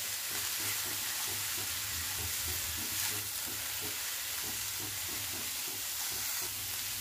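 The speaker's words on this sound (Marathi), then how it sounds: "पत्ता गोबी भाजताना एक थोडासा बटरचा तुकडा टाकणार आहे मी" Cabbage frying in a little butter in a pan gives a steady close sizzle with a soft hiss. It runs unbroken throughout, with faint rhythmic scraping under it.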